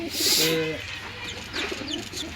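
Racing pigeons kept for a flying contest give a close, full coo lasting under a second, followed by a few faint chirps against a steady low background.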